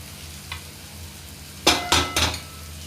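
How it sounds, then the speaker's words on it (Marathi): Eggs cracked into a pan of fried onions for egg bhurji: a low sizzle runs throughout, then three sharp, close knocks in quick succession near the end, with no voices. "कांदा आपला आता व्यवस्थित भाजून झालेला आहे आता आपण यात अंडी फोडून घालूया"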